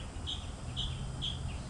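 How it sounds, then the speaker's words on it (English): Birds chirp outdoors during a solar eclipse, three short high calls repeating at a steady pace over a constant low background hum, moderately distant and clear. "the birds chirping, they didn't even get quiet"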